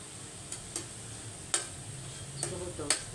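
French fries stirred and sizzling in a pan for a home-cooked lunch, with a few sharp scraping clicks from the utensil over a quiet, steady fry hiss.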